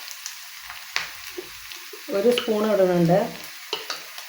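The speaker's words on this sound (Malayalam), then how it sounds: "നന്നായിട്ടൊന്ന് വറുത്തെടുക്കുക." Onion and chili powder frying in a pan, with a soft sizzle, scattered stirring clicks and scraping close by, while someone speaks briefly over it midway.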